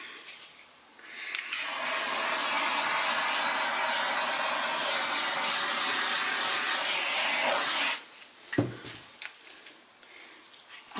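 An airbrush blowing out paint on a flip-and-drag artwork, heard as a loud, steady airy hiss lasting several seconds, followed by a few short puffs and small rubbing clicks.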